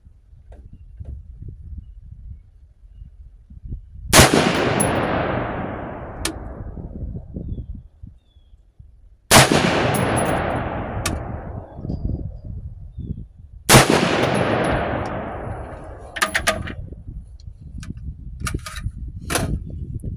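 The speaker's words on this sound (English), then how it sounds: "First 3 shots went off without a hitch." A rifle fitted with a Bear Creek Arsenal 14.5-inch side-charging upper fires three loud, sharp shots several seconds apart, each followed by a long, fading rumble.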